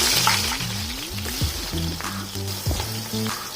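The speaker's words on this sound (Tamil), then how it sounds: "இந்த ஆயில் அண்ட் கீ நல்லா ஹாட் ஆனதுக்கப்புறமா வெங்காயம் ஆட் பண்ணுறாங்க" Onions sizzling in hot oil and ghee, with a bright crackling hiss under a low melodic background tone, close and fairly loud, no talk.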